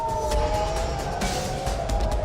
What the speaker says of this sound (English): Sirens rang out across Jerusalem and other parts of Israel